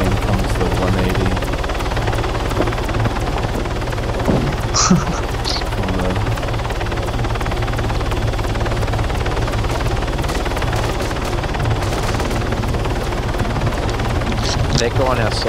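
A helicopter taking off backward in the military game Arma 3, its rotor thrum and engine drone steady and loud throughout, with players talking over it.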